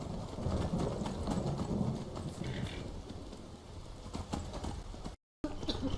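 Horse hooves clopping in the video game Skyrim, a steady loose clip-clop under a rumbling storm of rain and thunder, with a voice talking over it and a brief dropout near the end.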